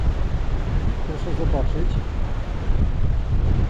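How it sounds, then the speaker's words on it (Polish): Strong wind buffeting the microphone at the end of a motorcycle trail ridden on a Yamaha Tenere 700 in Italy, a constant rough roar throughout while someone speaks briefly over it. "Tylko wiatr jest taki, że ledwo można tu ustać"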